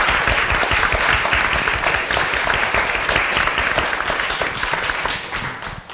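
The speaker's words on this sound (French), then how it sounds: "je vous prie d'accueillir Madame Catherine Lalumière, qui nous fait l'honneur et l'amitié de venir depuis Paris et de l'applaudir très" A conference audience applauds warmly to welcome a guest speaker from Paris, dense sustained clapping that fills the room at close range and tapers off toward the end.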